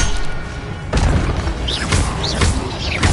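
Spell effects cast in a Hogwarts wizarding video game, a run of heavy booming impacts with whooshing swishes between them, loud and dense.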